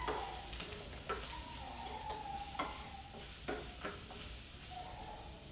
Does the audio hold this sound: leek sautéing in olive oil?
yes